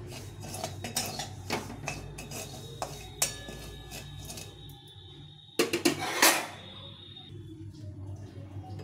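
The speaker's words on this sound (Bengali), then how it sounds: "এখানে আমি সুজিটাকে একটু ভেজে নেব" Semolina dry-roasting in a wok is stirred with a utensil, producing scraping and clinking strokes in uneven bursts, a quieter stretch, then a louder rasping flurry, with no talking.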